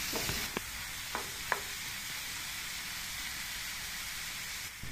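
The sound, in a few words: stirring and cooking mixed vegetables in a pan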